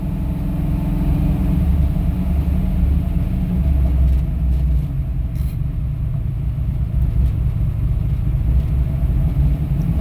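A shortbed Chevy truck engine idles with a deep, steady low growl, loud and close, a continuous rumble with no talking over it.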